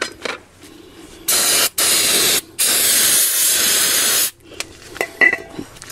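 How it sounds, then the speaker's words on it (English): Aerosol brake cleaner sprayed onto the brake pads and backing plate of a Subaru WRX STI with Brembo front brakes, in three loud, steady hissing bursts with short gaps, followed by faint clicks. "now we're going to spray off the pads or the backing plate here a little bit"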